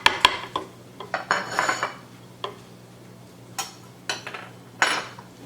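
Quiet clinks and taps of utensils against a bowl come in scattered bursts while liquid ingredients are added to unbleached flour for sourdough molasses bread; no one speaks.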